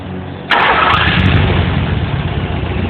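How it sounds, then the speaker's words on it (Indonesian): An EFI car engine cranks and catches, then settles into a steady, loud idle close by, with no talking. "Nyalakan mesin."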